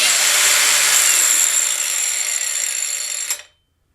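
A cordless Bauer brushless angle grinder screams at a steady high whine for about three seconds, then winds down quickly as its brake halts the disc, ending in silence.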